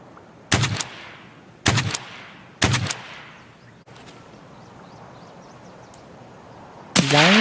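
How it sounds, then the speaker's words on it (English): Three sharp, loud gunshots from a shooter video game ring out about a second apart, each trailing off in a short echoing decay, followed by a stretch of low ambient game noise and one more abrupt burst at the end. "Vess is shooting people like 50 meters away"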